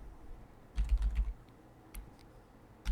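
Rapid keystrokes on a computer keyboard typing into an Excel spreadsheet, a quick burst of clicks followed by a couple of isolated taps, close and fairly quiet with no speech.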